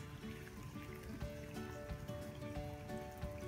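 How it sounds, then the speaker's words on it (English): Floodwater runs down a residential street in a steady, close trickling stream with soft dribbling splashes and faint tonal hum in the background. "There's a river running down our street now."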